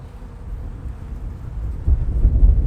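Low, rumbling wind buffets outdoors at a beehive in May, growing stronger and gustier toward the end, with no one speaking.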